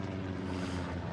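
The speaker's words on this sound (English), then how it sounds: "Well, planes coming in." Aircraft fly in during a WWII video game, a steady, dense propeller drone that fills the moment without let-up.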